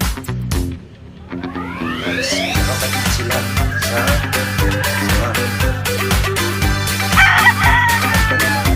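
Young roosters, seven-month-old stags on a farm, crow loudly and repeatedly close by, their calls overlapping with clucks amid busy farmyard noise, with no talk.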